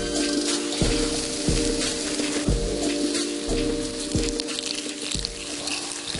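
Vegan burger patties sizzle loudly in a hot pan, a steady crackling hiss with periodic low thumps layered underneath, close and continuous without any talking.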